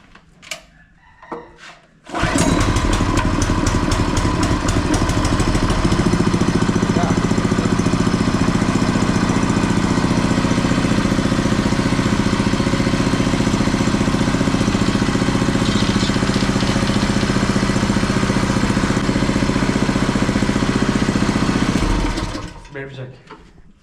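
A new milking machine's motor kicks on after a couple of seconds of quiet, runs with a loud, steady mechanical drone for about twenty seconds, then winds down and stops.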